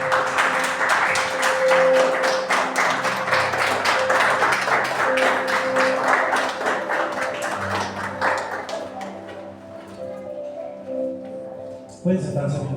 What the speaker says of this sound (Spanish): ¿Qué le parece si me brinda un fuerte aplauso al Señor?